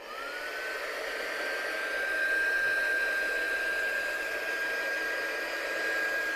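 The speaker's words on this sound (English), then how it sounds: "we'll give that a bit of a blast with a gun just to dry it off" A heat gun blows steadily for several seconds to dry a watercolour die-cut background, giving a continuous broadband whoosh with a faint high whine, fairly close and alone with no talking.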